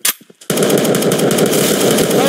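Rapid automatic gunfire in a Roblox video game, a loud, continuous burst that starts abruptly after a few short thumps and keeps going without a break.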